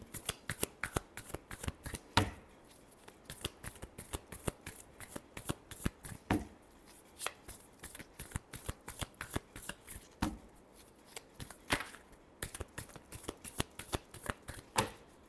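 Tarot cards shuffled by hand at close range, a long series of crisp riffling slaps and flutters in quick uneven rhythm, with no talking.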